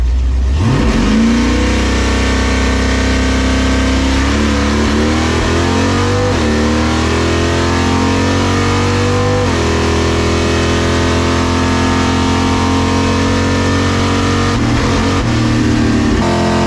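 A boosted 383 small block Chevy Nova launches at a drag race, its loud engine revving hard and climbing through the gears in one continuous roar with no talk.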